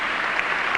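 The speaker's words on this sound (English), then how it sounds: "I wanted one of those applause breaks too." Audience applause at a talk by a NAFI graduate, a brief dense wash of many hands clapping, steady and fairly loud, with no voices over it.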